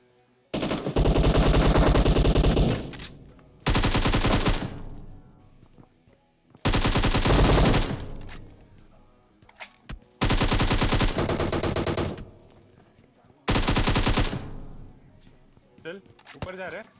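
Loud automatic gunfire from the mobile battle-royale game PUBG Mobile comes in several long, sustained bursts separated by short pauses, with faint shots and movement sounds between them.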